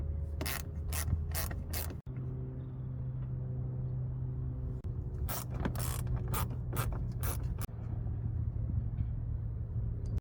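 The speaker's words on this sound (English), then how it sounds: "remove two 8mm screws that hold the fender liner down" A ratchet clicks in quick bursts while removing 8mm screws holding the fender liner on a 2006 BMW E90 330i, close, crisp ticking in two separate runs over a low hum.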